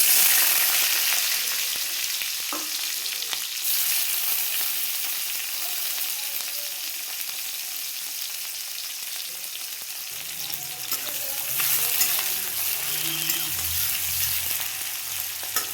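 Onion added to hot oil with darkened cumin seeds, frying with a loud continuous sizzle and intermittent stirring scrapes, close up with no talking.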